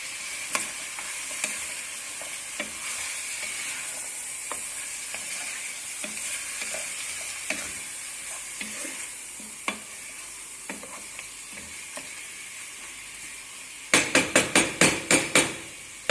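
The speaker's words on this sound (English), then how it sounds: "Now we'll saute it for more 2 minutes so that the rawness of the ginger garlic paste will be gone." Homemade ginger garlic paste sautéing in a pan for chicken haleem, giving a steady soft sizzle with scattered light spoon clicks and a quick run of sharp metallic taps near the end, close and without voices.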